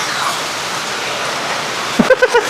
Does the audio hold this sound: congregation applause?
no